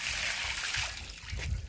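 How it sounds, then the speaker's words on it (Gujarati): Water splashing and trickling as it is poured, a short close splattery burst that swells again near the end, with faint voices in the background. "પાણી રેડી"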